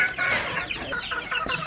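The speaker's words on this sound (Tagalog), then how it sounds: "White Kelso po yan by B-Boy Enriquez." A White Kelso chicken clucks close by in a quick series of short calls, with faint farmyard background.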